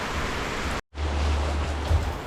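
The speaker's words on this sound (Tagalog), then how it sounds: "wala talagang tigil ang ulan" Heavy, continuous rain pours down steadily as a dense, hissing wash, broken by one brief cut to silence before it resumes at the same strength.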